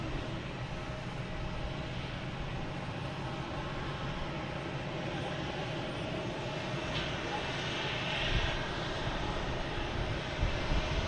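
A United airliner takes off at Boston Logan Airport, heard as a steady, loud, broadband engine roar that fills the whole clip and swells slightly toward the end, with spotters talking underneath.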